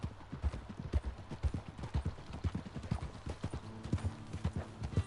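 A horse's hooves clip-clop steadily in the video game Red Dead Redemption 2, a brisk, evenly spaced walking rhythm heard clearly and close, with no talking over it.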